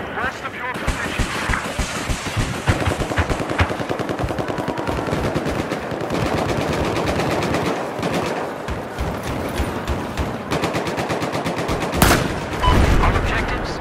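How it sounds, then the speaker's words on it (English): Machine gun fire in a Battlefield 4 battle rattles on almost without a break in long, loud bursts, with a heavier blast near the end and game voices talking over the gunfire. "Hostile machine gun, west of your position."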